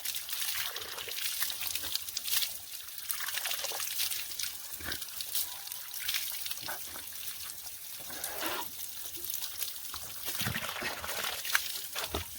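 Spring water at a hillside village trickles and splashes steadily close by, with small irregular gurgles and drips throughout and no talk.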